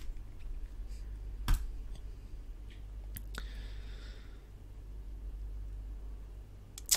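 A computer mouse clicks a few times, sharp and close, with single clicks spread out in a quiet room and no talking.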